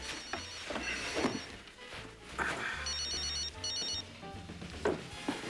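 A telephone rings with repeated electronic ringing bursts, fairly close and clear over a busy indoor background with faint music-like tones; no talk during the ringing.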